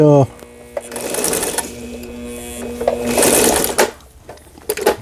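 A Brother Boutique 10 sewing machine under repair runs in short bursts of rapid mechanical stitching, close and fairly loud, starting and stopping over a few seconds.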